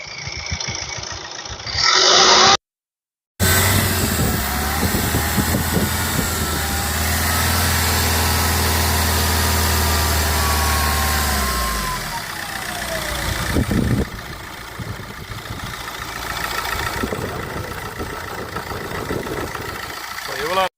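An 8-seater car engine runs steadily at idle, revving up, holding, then settling back down, with someone talking over it.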